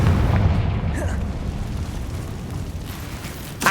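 A Confringo spell explosion in Hogwarts Legacy, a loud deep rumbling blast that starts at once and slowly fades over a few seconds, with a sharp pop near the end.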